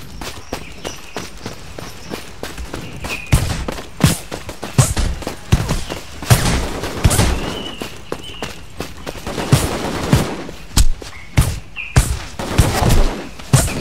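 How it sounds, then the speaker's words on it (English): Gunfire in the shooter game Black Day: loud, close bursts of rapid shots and automatic rattles, repeating in clusters over the whole stretch with short gaps between volleys. "Can't see who's shooting me."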